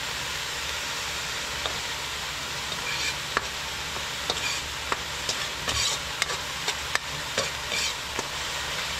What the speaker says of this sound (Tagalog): gisa muna natin yung bagoong